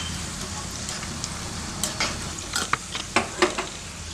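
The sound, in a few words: cashews and raisins frying in ghee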